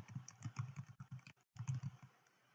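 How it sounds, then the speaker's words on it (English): Rapid typing on a computer keyboard, close and fairly quiet, a quick run of soft clicking keystrokes with a short pause midway before the clatter resumes. "So I can type in all of my information for my social media."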